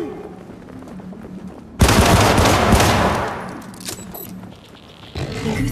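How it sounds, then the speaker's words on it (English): The Kusanagi rifle's secondary fire in Syndicate erupts suddenly as a loud, sustained blast of rapid gunfire that dominates for a couple of seconds, then trails off amid further scattered combat noise. "The Kusanagi rifle's secondary fire penetrates light cover."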